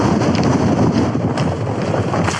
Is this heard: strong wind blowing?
yes